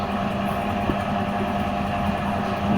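A motor runs steadily with a constant low droning hum, close and even throughout, with no speech.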